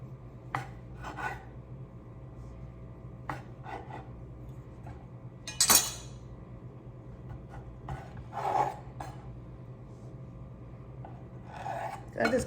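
A serrated bread knife sawing angel food cake into cubes, quiet rasping strokes at irregular intervals with a few sharper knocks against the board, close and without talk.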